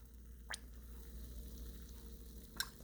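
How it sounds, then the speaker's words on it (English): Colored fizzy ice in a science experiment fizzes with a faint, soft crackle, broken by two brief sharp pops. "Ooh, I hear the fizz."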